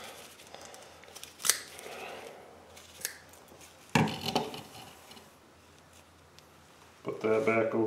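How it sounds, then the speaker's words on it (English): A squirrel's tail being cut off at the base while the animal is skinned for meat and fur, heard as a few close, sharp snipping and tearing sounds with a louder crunchy cut near the end. "we are going to cut the tail off. Right here at the base."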